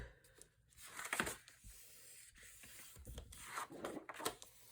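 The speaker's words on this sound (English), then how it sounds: "So burnish these down." Paper panels are burnished down by hand on a slimline accordion folio, soft close rubbing and scraping strokes that come in short uneven bursts, faint and quiet, with no talk.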